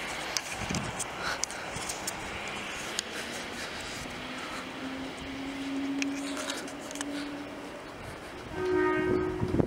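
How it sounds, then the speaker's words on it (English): A train passes outdoors on a cold early morning, a steady rumbling wash with a horn-like tonal sound rising near the end, heard at a moderate distance. "And there's a train."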